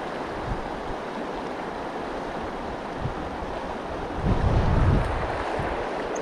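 Pecos River in New Mexico flowing at the junction with the Mora, a steady broadband rushing wash of water with a slight swell near the end, close and continuous with no voices.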